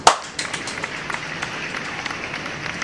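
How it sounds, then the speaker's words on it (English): A few scattered hand claps, light and uneven, sound close by in a quiet room, starting with one sharp clap and then trailing off into sparse, soft pats. "Let's just get a round of applause back"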